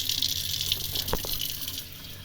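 Running water pours steadily into a pot of washed rice until it covers the grains, a continuous close gush from a kitchen tap.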